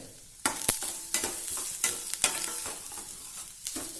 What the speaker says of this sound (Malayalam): നാളികേരം ഒന്ന് നല്ല നിറം മാറിയൊരു ലേശം ഗോൾഡൻ ബ്രൗൺ ആകട്ടെ